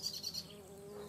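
A bee buzzes close by among April flowers in a shady garden, a brief, faint, steady hum that wavers slightly in pitch.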